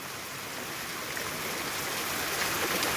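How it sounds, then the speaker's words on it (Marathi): Heavy rain pours steadily over a waterlogged street, a dense, even hiss of water that fills the whole moment without pause and swells slightly louder toward the end, with no voices over it. "एकदम जोरात पाऊस आहे."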